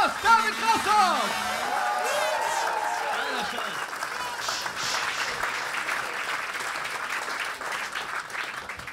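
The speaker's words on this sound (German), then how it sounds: "Dieser Applaus, David Grasshoff!" Studio audience applauding comedian David Grasshoff at a NightWash live comedy show, a steady wash of clapping across the whole stretch, with a host's voice shouting over the start.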